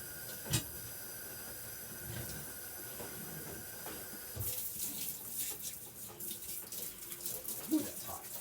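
Metal stove grates being washed under running water in a kitchen sink, a steady faucet hiss with soft clanks and splashes that grows fuller and louder partway through.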